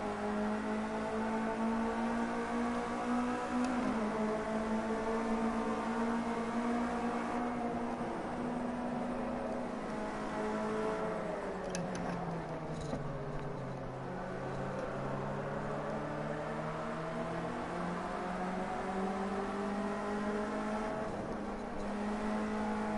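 A race car engine in Project Cars 2 drones and whines steadily on an out lap, its pitch rising and falling gently as it shifts and accelerates, close and continuous with no talk.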